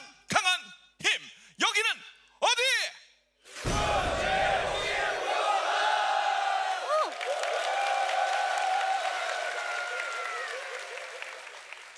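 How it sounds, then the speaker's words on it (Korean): Near short voiced calls come first, followed by a loud surge of cheering, shouting and applause from a crowd at a military morale-boosting concert, holding steady to the end. "크게 함성 한번 외치고 시작을 해보도록 하죠"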